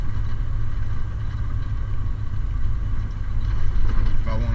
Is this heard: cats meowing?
no